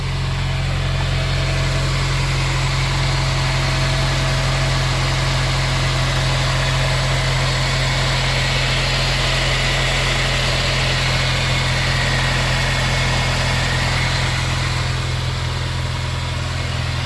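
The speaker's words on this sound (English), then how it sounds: "So there's under the hood of the K20 idling away." A Honda K20Z1 engine from a 2005 Acura RSX, swapped into an Insight, idles steadily under the open hood, heard close up as a loud, even low drone with no one talking.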